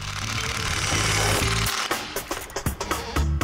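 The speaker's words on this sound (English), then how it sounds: "the sway bar gets bolted to the frame, and then the end links" A power tool chatters loudly while bolting a sway bar to the frame of a second-generation Chevelle, a sustained close buzz that breaks into short bursts near the end.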